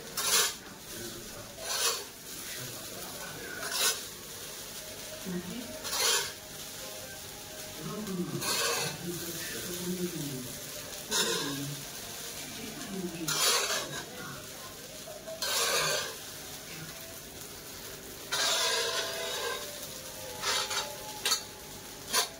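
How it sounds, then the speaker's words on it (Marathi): A utensil scrapes and stirs tava pulao rice mixed with lemon juice on a griddle pan, with intermittent rasping strokes and a faint sizzle underneath. "लिंबाचा रस टाकून मिक्स करून घ्यायचा व्यवस्थित"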